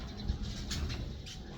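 Small birds chirp near their nest under a veranda, a couple of faint high calls with soft cooing undertones against a low, steady background hum.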